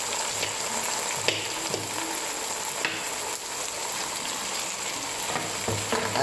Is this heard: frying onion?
yes